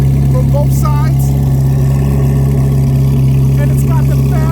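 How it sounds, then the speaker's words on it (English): A BMW M 1000 RR motorcycle with a Fab Speed exhaust and both mufflers removed idles with a loud, steady low hum. A voice talks over it throughout. "it's got the Fab Speed exhaust on it. The mufflers have been removed from both sides"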